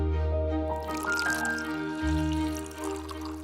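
Water pours steadily from a Coway Aquamega 200C countertop water purifier, a continuous trickling stream over a low, even tonal hum that lasts the whole moment.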